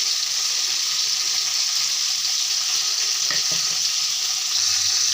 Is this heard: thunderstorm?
no